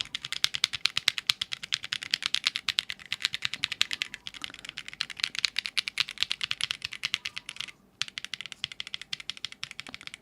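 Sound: fast typing on mechanical keyboard

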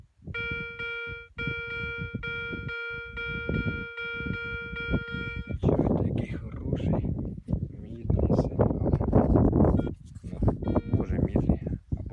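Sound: metal detector signal beep

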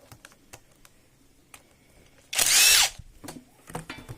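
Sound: unscrewing the screws of an Ecosoft pump cover

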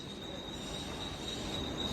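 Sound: train at Karjat railway station

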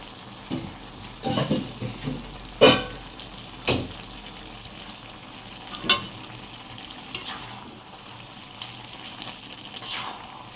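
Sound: fried fish heads stirred into pan with mustard paste

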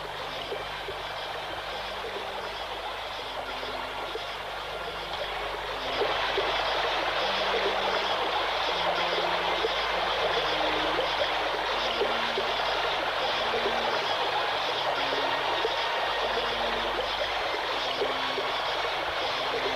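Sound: river flowing

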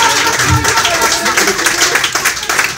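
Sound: audience applause

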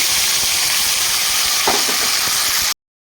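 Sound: black cumin seeds tempering in hot oil

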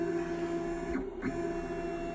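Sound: CNC 6040 router Z axis moving the spindle up

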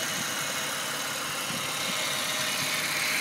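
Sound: Ford BA MKii Supercab engine idling

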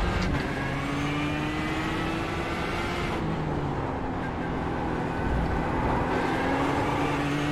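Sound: GTE race car engine in the video game iRacing

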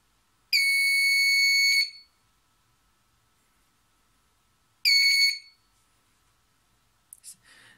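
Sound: buzzer of an LDR light fence circuit buzzing

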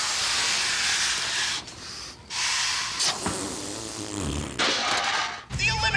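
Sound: air rushing out of a balloon-powered toy car's balloon

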